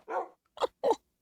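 A white dog barks in a video game, four short separate woofs with gaps between them, close and clean with nothing else behind them.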